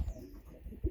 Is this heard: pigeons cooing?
yes